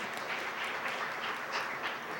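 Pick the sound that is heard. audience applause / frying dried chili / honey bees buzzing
audience applause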